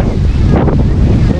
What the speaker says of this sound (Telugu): చెట్టు కింద ఉంటే చల్ల గాలి వస్తుంది